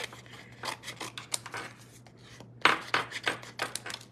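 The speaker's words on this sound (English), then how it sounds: "And then we can cut these out." Scissors cutting out paper shapes for a card-making craft, a series of crisp close snips and rustling paper in uneven bursts, quiet with a faint steady hum beneath.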